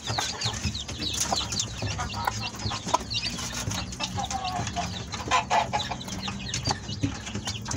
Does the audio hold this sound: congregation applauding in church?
no